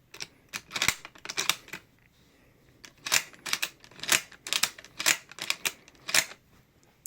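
The bolt of a beat-up, never-refurbished Mosin Nagant rifle is worked repeatedly, producing sharp, close metallic clacks and rattles in bursts, loud and crisp with brief pauses between cycles.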